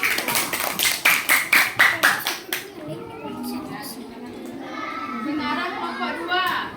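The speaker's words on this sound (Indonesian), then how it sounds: "Ya, tepuk tangan untuk kelompok 1." A class of fourth-grade children claps in a quick, rhythmic burst of about a dozen loud, even beats, then the clapping gives way to children's chatter and classroom noise.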